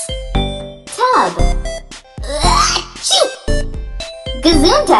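A single sharp sneeze cuts through a busy children's learning program with bright jingling music, amid lively speech.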